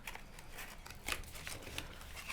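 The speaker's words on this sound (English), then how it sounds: "you kind of get your scissors in there." Scissors cutting a cardboard tube close by, quiet crunchy snips and scrapes with a few sharper cuts standing out.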